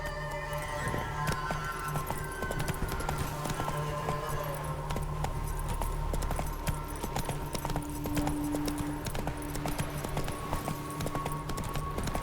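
Hooves of Roach, the horse in The Witcher 3, clip-clop steadily throughout over a dense bed of game music and ambience, loud and continuous from start to finish.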